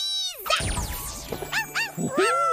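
Cartoon puppy yipping and whimpering, a string of high, bending yelps and whines, close and fairly loud, with short gaps between the cries.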